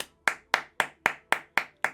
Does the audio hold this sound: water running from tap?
no